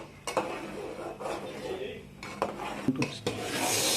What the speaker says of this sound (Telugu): మనం ఒక్కోసారి ఇలా కలుపుకుంటూ ఉండాలి